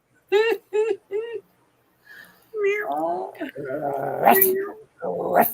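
A dog whimpers and growls nearby, starting with three short high yips, then long whining, rumbling growls that rise and fall in pitch, loud and close, over several seconds.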